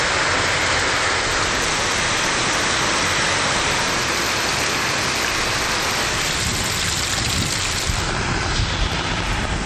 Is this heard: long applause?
no